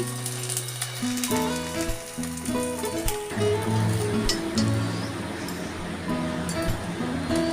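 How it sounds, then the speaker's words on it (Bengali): Fritters fry in hot oil in a home kitchen with a steady bright sizzle, under a faint tonal hum and a few light clinks. "আমি এরকম করে কটা ভেজে নিলাম"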